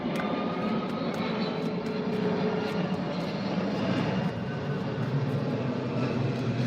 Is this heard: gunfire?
no